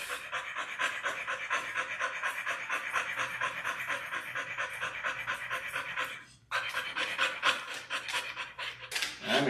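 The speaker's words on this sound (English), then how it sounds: "is just panting up a storm. It's not because he's hot, it's because he's just a little anxious." An Australian Shepherd pants rapidly and steadily during grooming, close and loud, with quick rhythmic breaths and a brief pause near the end before resuming.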